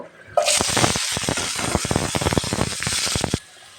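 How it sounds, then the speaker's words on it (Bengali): Potatoes frying in hot oil after pumpkin pieces, a loud, close, steady sizzle with rapid crackling spatters that starts abruptly and cuts off near the end, with no voices. "আলুটাও এভাবে ভেজে নিব"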